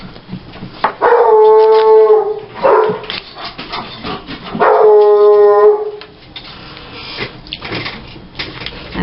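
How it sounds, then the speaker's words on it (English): Dogs break into two long, loud, wavering howls close by, each swelling and fading over a couple of seconds, with scattered sharp barks and yips between and after them. "Oh, those dogs."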